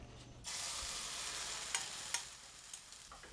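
Oil sizzles steadily in a home kitchen as eggs fry and vegetarian noodles cook, a dense hissing wash broken by a few sharp spatula scrapes and clinks, close and alone without voices.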